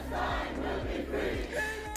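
A large protest crowd at a rally chants together in a rhythmic, repeated pattern, loud and dense, with the beat recurring about every half second.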